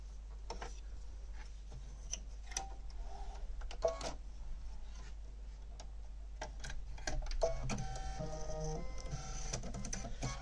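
An embroidery machine stitches a mug rug design, a quiet, steady mechanical ticking and whirring with rapid rhythmic needle clatter and occasional louder clicks, running alone without voices.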